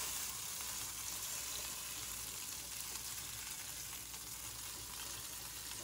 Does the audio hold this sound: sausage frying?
yes